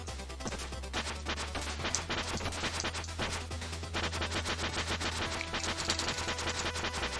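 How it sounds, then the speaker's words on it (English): Rapid blaster fire from the ninja action game Cyber Shadow, a dense, steady stream of sharp shots repeating over the whole stretch, loud and continuous with no talking. "Oh shit, he just has a blaster."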